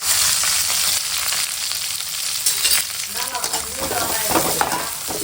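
Whole spices, cinnamon, cloves, fennel seed and onion frying in about fifty grams of oil in a home kitchen, a steady loud sizzle with stirring scrapes and crackles building toward the end, no talking.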